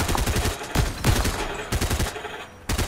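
Gunfire from a sniper rifle in the Fortnite video game comes as several loud, sharp shots spaced unevenly over a few seconds. Each shot leaves a short ringing tail behind it.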